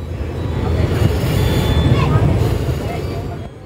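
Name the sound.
train entering Siliguri Junction station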